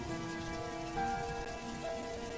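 Heavy rain pours down on a dark night in a Hindi cartoon, a dense, steady downpour with faint sustained tones beneath it and no voices.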